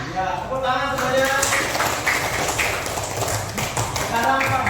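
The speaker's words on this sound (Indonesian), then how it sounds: "Ya, tepuk tangan semuanya." A classroom of children claps together in dense, continuous applause with voices mixed in.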